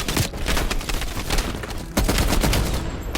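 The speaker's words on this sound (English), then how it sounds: "Heavy MG on the ridge." Heavy machine gun fire from a ridge during a Call of Duty: Black Ops Cold War mission, dense continuous bursts of rapid shots with booming impacts, loud and close throughout with no speech.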